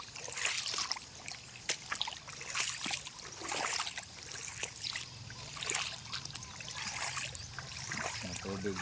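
Water trickles and gurgles steadily in an outdoor spot on a cool, drizzly overcast morning, faint and continuous with scattered splashy ticks.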